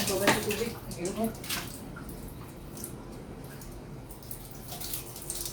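Water splashing and sloshing during a bath, close and soft with a few quick bursts at the start, then a steady watery wash, with a voice briefly audible.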